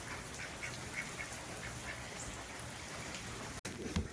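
A goose on a rainy day gives a few soft honks against a steady hiss of rain, with a sharp brief knock near the end.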